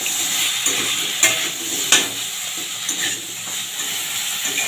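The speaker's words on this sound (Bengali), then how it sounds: "এবারে এইগুলোকে দিয়ে যতক্ষণ না কাঁচা গন্ধটা যাচ্ছে আমি ভেজে নেব" Spice paste of ground coriander and cumin frying in a pan for a raw banana, potato and papaya curry, a steady close sizzle with scraping stirs and a couple of sharper spatula knocks, no voices.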